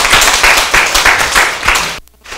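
Applause from a lecture audience in Taiwan welcoming the lecturer, Chen Taishan, to a class: dense, steady clapping with rhythmic swells that cuts off abruptly near the end.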